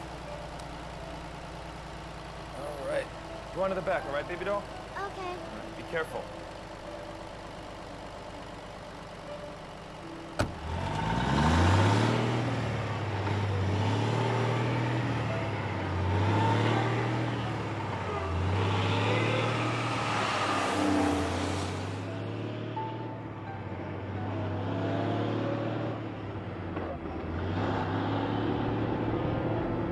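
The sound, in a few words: big truck engine idling and driving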